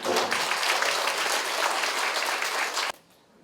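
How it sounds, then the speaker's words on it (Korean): A crowd at a forum on state-issued history textbooks claps steadily and loudly for about three seconds, then the applause cuts off abruptly, leaving quiet room tone. "다시 한 번 박수 주시기 바랍니다"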